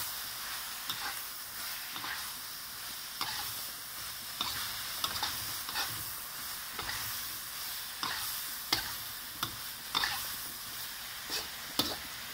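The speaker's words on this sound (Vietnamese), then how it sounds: "Xào." Shrimp stir-fried in a pan for bánh xèo filling, steady close sizzling with repeated scraping stirs of the spatula at an irregular rhythm, no voices.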